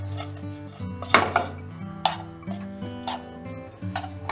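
Lakmee Magic Mix egg noodles tossed with their spice mix in a pan, with scattered scraping and clinking utensil strokes, close and moderately loud, over a steady low hum.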